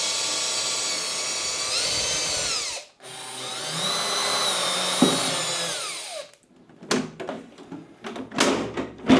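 A cordless screwdriver backs screws out of a portable 220V air conditioner's casing, with two long sustained whirring runs followed by several short, sharp bursts as screws are loosened, close and loud with no talking.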